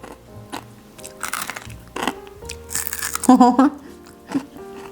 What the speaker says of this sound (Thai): เดี๋ยวเราจะลองชิมให้คุณผู้ชมดูนะคะ ว่ามันจะกรอบขนาดไหนนะคะ